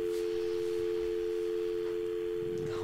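A steady, unbroken telephone line tone hums alone for about three seconds after a caller hangs up, with no talk over it.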